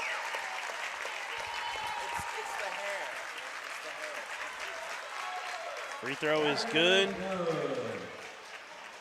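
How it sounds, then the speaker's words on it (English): A crowd claps through a girls' high school state tournament basketball game between Bergman and Mountain View, sustained applause filling the gym while an announcer talks over it. "We're getting some clapping here for some of the girls checking out in the end"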